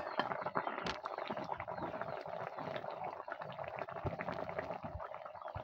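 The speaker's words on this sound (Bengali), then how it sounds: "ঢেকে দেব আলুটা সিদ্ধ হওয়ার জন্য।" A covered pot of new potatoes boils on the stove with tilapia fish cooking nearby, a faint, steady bubbling and simmering hiss with small clinks, without talk.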